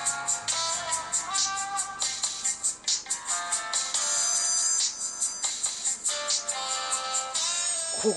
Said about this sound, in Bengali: অগ্নিদার বাবা দিভাইকে ফোন করেছে।